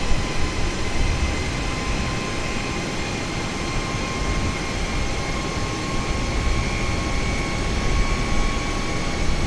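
Steady cabin hum of a Japan Airlines Airbus sitting at the gate at Narita before pushback, a constant broadband drone with faint tonal whine, unchanging and continuous with no voices.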